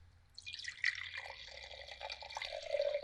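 Chenin Blanc wine pours into a glass, a steady liquid trickle and splash that builds and continues to the end, close and fairly clear with no voices over it.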